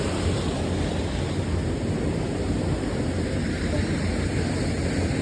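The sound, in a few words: Uway-uway Falls waterfall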